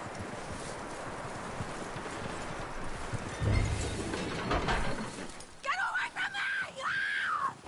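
Hooves clop over a rough background of movement and rattling in Red Dead Redemption 2, followed by a horse whinnying and voices talking near the end.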